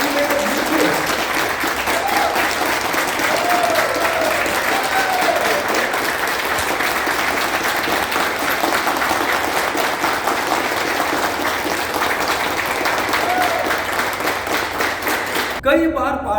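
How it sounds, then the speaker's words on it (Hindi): Strong, steady applause from a crowded seminar audience in Surat keeps going at an even level for the whole stretch, with dense clapping and some cheering voices under it. "एक बार जोरदार तालियों से"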